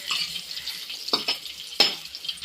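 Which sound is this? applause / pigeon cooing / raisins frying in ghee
raisins frying in ghee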